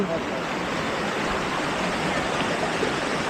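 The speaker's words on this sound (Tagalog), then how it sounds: "May falls pala dyan." A waterfall spills from a culvert into a swelling river after rain, giving a steady, loud, broadband rush of flowing water that holds even throughout, with no voices.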